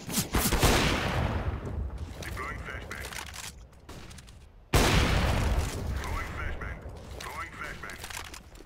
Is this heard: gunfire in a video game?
yes